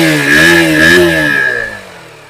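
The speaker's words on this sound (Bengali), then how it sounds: "ইঞ্জিনের আওয়াজটা শুনুন" A used motorcycle fitted with an underbelly exhaust revs up close by, its engine note rising and holding in a loud tonal drone before fading away toward the end.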